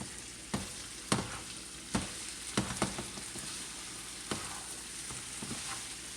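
Broccoli is stirred in a sizzling pan for a South Indian broccoli koora, a continuous frying hiss broken by several sharp scraping and clattering strokes of a spoon at irregular intervals, close and unaccompanied by talk.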